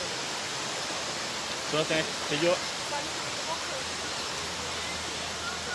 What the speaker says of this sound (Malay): Air berbatuan dari bukit tinggi.